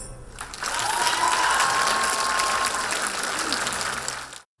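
A broad wash of applause from a concert audience for a folk ensemble, steady and sustained for several seconds before cutting off abruptly, with a faint tone running underneath.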